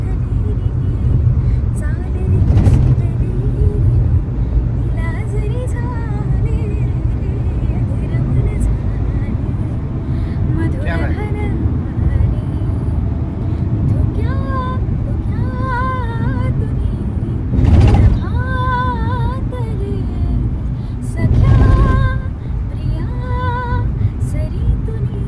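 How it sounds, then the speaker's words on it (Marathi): Car cruising along an uneven, bumpy highway, a steady loud road and engine rumble running throughout with brief louder thumps, while people talk over it. "गाडी चाललो"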